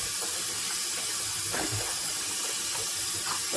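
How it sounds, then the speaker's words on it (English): Turkey meat rinsed under a running tap, a steady loud hiss of flowing water with faint splashes and no talking. "And now I'm gonna give it a second rinse."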